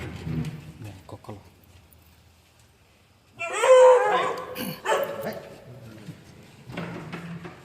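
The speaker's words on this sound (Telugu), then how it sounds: "చూశారుగా కుక్కలు" Dogs bark and yelp inside an abandoned theater, a sudden loud burst of sharp barks and whimpers partway through after faint talk, then trailing off into scattered yips.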